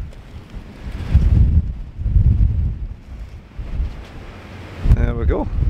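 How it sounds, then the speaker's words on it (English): Strong gusty wind buffets the microphone at Lochranza Castle on the Isle of Arran, loud rumbling surges rising and falling in waves, with a brief voice near the end. "Very windy day."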